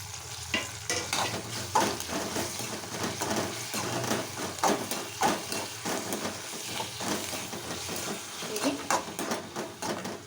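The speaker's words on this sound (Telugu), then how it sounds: "ఇప్పుడు వేగాయి కదా, కొంచెం కరివేపాకు, కొత్తిమీర కూడా వేస్తాను దీంట్లో." Peanuts, cumin, curry leaves and coriander sizzle in hot oil in a pan while a spoon stirs and scrapes in steady, repeated strokes, close and moderately loud.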